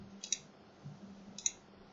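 Computer mouse double click, two quick pairs of sharp clicks roughly a second apart, close and crisp over quiet room hiss.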